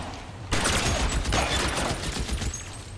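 Dense gunfire from a shootout in the video game L.A. Noire, a loud rapid burst of overlapping shots that starts abruptly and keeps going for a few seconds with no talking.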